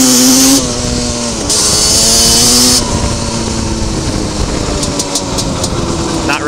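A Yamaha Banshee ATV engine idles and revs loudly nearby in the snow, its buzzy two-stroke drone climbing and dropping through several throttle swells.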